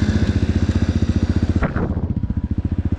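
A brand-new Diabolini MMR 250 cross motorcycle's engine runs with a loud, fast pulsing thump, a brief rev bursting in midway before it settles back to the steady chugging beat.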